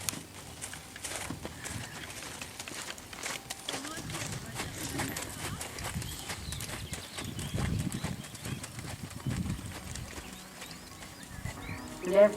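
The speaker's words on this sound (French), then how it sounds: "On la met au trot." Horse trotting in an equestrian riding lesson, hooves clip-clopping in a steady rhythm under an instructor's talk and ambient arena noise.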